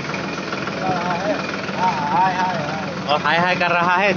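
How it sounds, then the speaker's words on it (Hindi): A tractor engine runs steadily nearby, a continuous droning rumble that carries throughout while people talk loudly over it. "अभी पूरा ट्रैक्टर चला रहा है"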